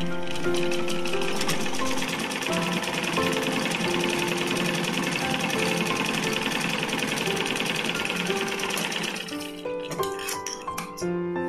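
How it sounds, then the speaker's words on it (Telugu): A sewing machine stitching a blouse runs in a fast, steady mechanical whir and clatter for about nine seconds, close and alone, then stops and is followed by a few light clicks and handling sounds. "మళ్ళా ఈ విధంగా వచ్చినాక మళ్ళీ మధ్యలో ఒక కుట్టు వేసుకోవాలి."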